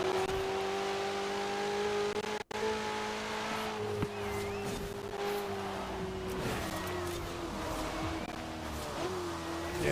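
A car spins out in a driving video game, with a steady engine drone and tire squeal sliding across the whole stretch, loud and close, with no talking.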